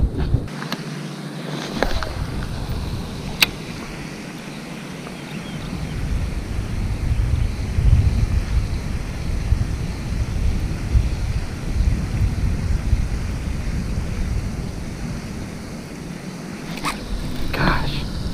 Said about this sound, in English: the wind is definitely picking up